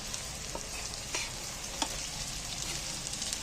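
Grated egg tossed into a pan of frying onions, a steady close sizzle of hot oil with faint scrapes and taps of a spatula stirring through it, no voices.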